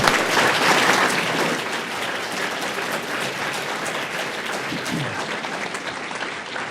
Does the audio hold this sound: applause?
yes